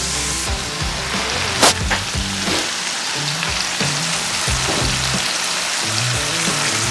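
Burgers seasoned with Lawry's fry on a Blackstone 22-inch E-Series griddle at 450 degrees, giving off a loud, steady sizzle and crackle with a brief clatter of a spatula early on.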